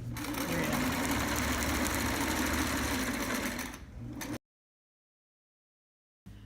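A sewing machine stitches a trapper hat at a low speed setting, running steady and close for about four seconds, then slowing and stopping, followed by silence and a brief restart at the very end.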